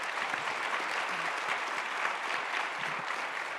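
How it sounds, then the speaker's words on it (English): A steady, dense round of audience applause for the panelists at a conference event, a continuous wash of many hands clapping at moderate loudness with no talk over it. "Another round of applause,"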